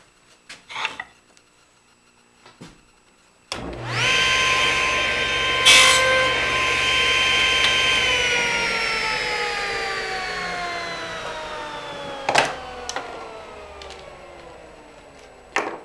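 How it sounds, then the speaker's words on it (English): Table saw crosscutting a wooden piece to length for cabinet door pulls: a few light knocks, then a loud, steady whining cut lasting about nine seconds that slowly winds down, with no talking. "Now I'm going to cross cut it to length"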